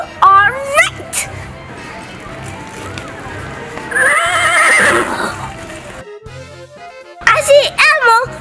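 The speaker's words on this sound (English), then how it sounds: "Horse. It's a horse." A horse whinnies in a few rising, wavering calls amid background chatter and music-like sounds, with a louder burst of neighing near the end.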